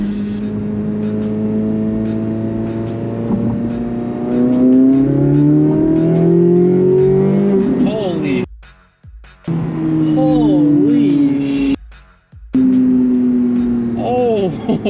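Corvette Z06 engine revving toward an 8,600 RPM redline, loud and close, climbing through sustained rising pulls, with two brief drops to near silence on shifts and more rising revs after each.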